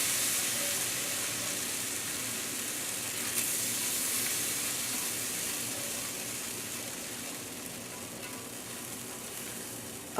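Cream sauce with coarse grind mustard bubbling and sizzling in a pan, a steady dense hiss with faint pops, close and continuous with no speech.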